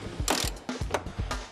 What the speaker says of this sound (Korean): 이 차량은 유독 볼트가 고정이 잘 돼 있어가지고 풀기가 힘드네요.